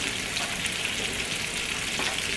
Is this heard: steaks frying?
yes